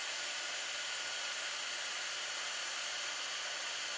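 A heat gun blows hot air to melt solder on large starburst earrings, making a steady, even rush of airy hiss that holds constant and close throughout with no talking.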